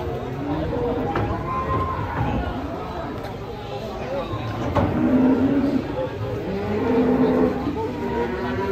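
Cattle low now and then amid a busy outdoor scene in Indonesia as an agitated cow is unloaded, with several people talking and calling over the animals and shuffling movement.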